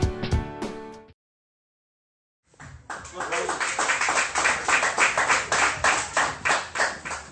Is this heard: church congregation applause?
yes